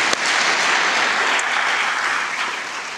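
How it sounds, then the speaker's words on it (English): Steady, dense applause from an audience at a university campus town hall at UC Berkeley, sustained and even throughout with no talking. "Let's give them another round of applause."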